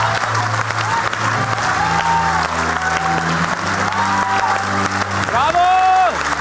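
At the final of a stage comedy league show, a crowd applauds in sustained, even clapping that holds throughout, with a host talking loudly over it and swelling toward the end.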